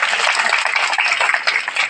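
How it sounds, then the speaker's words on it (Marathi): An audience at a storytelling performance during a literary conference bursts into loud applause, a dense, continuous wash of many hands clapping together at close range. "जोरदार टाळ्या."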